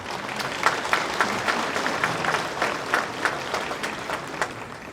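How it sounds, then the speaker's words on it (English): Audience applause at a Hmong American fifty-years-of-freedom celebration, steady clapping from a crowd sustained for about five seconds with no talk over it. "So give them a round of applause, please."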